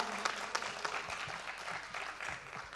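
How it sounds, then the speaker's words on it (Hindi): An audience at a Hindi comedic poetry gathering claps for a poet, producing steady, moderately close applause with a few louder claps throughout. "एक बार पूरा सदन जोरदार तालियों से ओम जी का हौसला अफजाई करे।"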